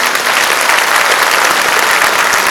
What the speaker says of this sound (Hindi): एक बार इन सब बच्चों के लिए आप बहुत जोर से ताली बजाओ